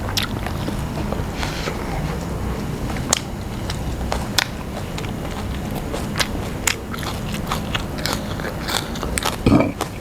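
Crunchy chewing of fresh green vegetables eaten with a spicy Thai-Lao live shrimp salad, close and steady with repeated sharp crisp bites and crackles throughout, no talk.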